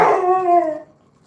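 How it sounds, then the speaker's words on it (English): A house dog gives a single loud, close howl indoors in a kitchen, a long wavering tone lasting just under a second before trailing off into quiet. "Sorry about the dog."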